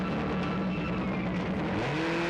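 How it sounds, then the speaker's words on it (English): Race car engines fire up and idle in the pit lane during a car racing qualifying session, a dense droning hum with a tone that steps up slightly near the end. "Engines fire up."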